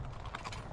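Hooves of a horse learning to pull a wagon clip-clop in quick, fairly faint steps, with a light mechanical rattle of harness and wagon behind them.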